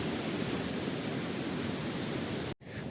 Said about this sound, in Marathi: सुंदर असा समुद्र दिसतोय. छान असा बीच आहे.